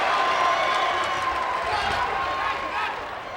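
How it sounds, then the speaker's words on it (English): Basketball arena crowd at a college exhibition game between Indiana and a Croatian national team roars and cheers after Croatia takes the lead on a made three-pointer, a broad sustained swell of voices with a commentator talking over it. "The crowd comes to life."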